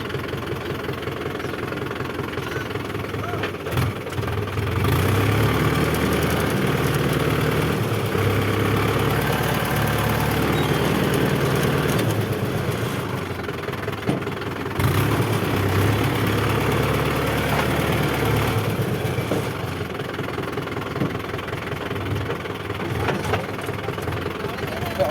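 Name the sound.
tractor engine running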